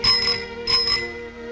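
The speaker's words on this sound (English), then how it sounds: "Oh, sure it sounds like the bells of St. Patrick." An old-fashioned bicycle bell rings twice in quick succession, bright and close, each ring fading with a short metallic decay.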